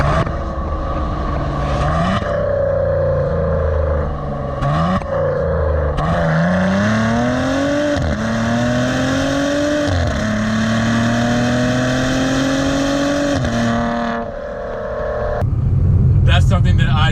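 A Maserati Ghibli engine pulls hard under sustained acceleration, its loud tone climbing steadily through several gear changes with brief dips between shifts, up close from inside the car.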